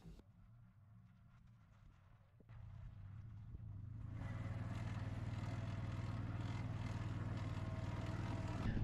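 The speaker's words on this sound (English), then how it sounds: "This is probably one of my favorite machines on the farm." Swiss alpine farm machine moving hay off a steep bank, its engine idling low at first, then rising to a loud, steady drone that fills the second half with a strong continuous hum.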